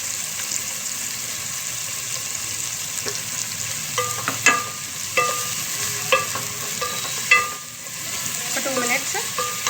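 Ginger garlic paste fries in a pan for Hyderabadi egg biryani, a close, continuous sizzle broken by several clinks and scrapes of stirring.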